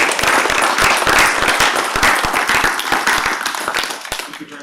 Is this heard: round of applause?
yes